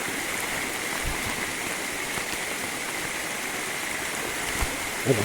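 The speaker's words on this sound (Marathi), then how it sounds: "कोकणात किती मुसळधार पाऊस येतो बघा वाटेन बघा किती पाणी येतं" Rainwater rushing along a village path in the Konkan during a heavy monsoon downpour, a steady loud wash of flowing water and falling rain with no talk.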